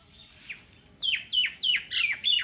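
A bird calls nearby on a village morning, giving a run of sharp, descending chirps, one faint then four loud in quick succession, over a quiet background.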